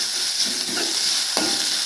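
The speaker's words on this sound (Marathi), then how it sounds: "आपले कांदे टाकून घेऊया। कांद्याला छान असे लाल परतून घ्यायचं आहे।" Onions sizzle in a hot pan with browned garlic and chili for egg masala, a steady close-up frying hiss with a few scraping stirs of a spoon.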